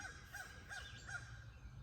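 Three rasping crow caws come in quick succession, moderately distant and alone over a soft outdoor hush.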